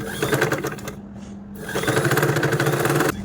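A sewing machine runs in two bursts of steady, rapid stitching while sewing an umbrella dress, with a brief pause in between; the motor hum is close and loud.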